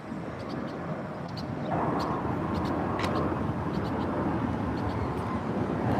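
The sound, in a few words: airplanes taking off at Chicago O'Hare Airport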